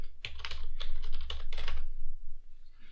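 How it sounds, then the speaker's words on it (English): Password typed on a computer keyboard at a login screen, a quick run of light clicking keystrokes in an uneven rhythm, close and fairly clear over a low background hum. "go ahead and type in my password to log in"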